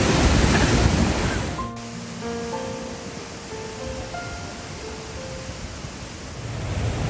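Virginia Falls in Glacier National Park roars as a continuous broadband rush of falling water, loud and steady, with a few faint higher tonal sounds drifting over it.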